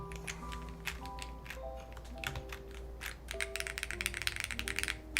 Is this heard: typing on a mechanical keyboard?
yes